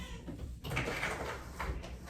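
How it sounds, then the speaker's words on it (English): A cat pushes open a door indoors: a close, brief scraping creak of the door moving, with a few soft knocks and shifts over about two seconds. "My cat's opening the door."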